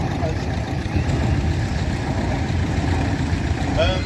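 A vintage tractor engine idles with a steady low chugging throb, close by, while someone talks over it.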